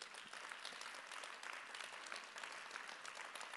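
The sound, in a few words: audience applauding the technical crew after a show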